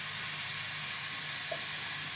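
Tomatoes and salt frying in a pan for a tomato and kadala parippu chutney give off a soft, steady hiss and sizzle, faint and even throughout with one small pop.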